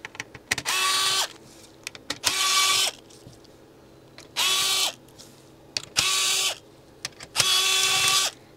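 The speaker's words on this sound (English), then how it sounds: "And now we have a bunch of screws to remove." An electric screwdriver whirs in five short bursts of about half a second to a second each, backing screws out of a PlayStation One development unit, with light clicks and handling between bursts.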